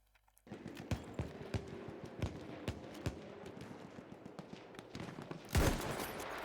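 Rifle fire on a Battlefield 1 battlefield during the Galicia operation: a steady run of sharp cracks about every second over a dense combat din, closing with a loud, heavy blast.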